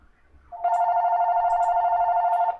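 A phone rings in the video game No Straight Roads as one sustained electronic trill lasting about two seconds, clear and close, after a brief quiet lead-in.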